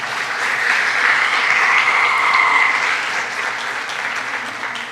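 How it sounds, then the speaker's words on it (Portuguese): A church congregation applauds in a steady, dense wash of clapping that swells and then slowly eases, with no voices over it. "Aplaudo o Senhor por causa disso."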